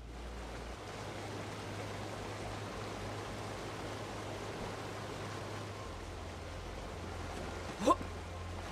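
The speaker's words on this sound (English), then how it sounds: "Secret tunnel behind a waterfall?" A waterfall in the video game Borderlands 3 gives a constant, even rush of falling water at moderate level, with one brief sharp click near the end.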